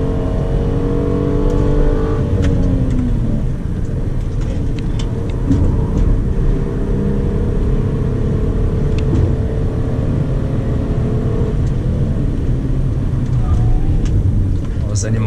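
Hyundai Azera with a 3.3-litre V6 accelerating on the Estrada dos Romeiros, heard onboard as a steady engine drone with rising harmonic sweeps, loud and close over road and wind noise.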